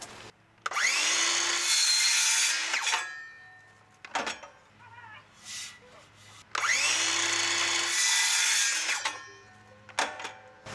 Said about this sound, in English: Since it's aluminum, we can cut it with a regular circular saw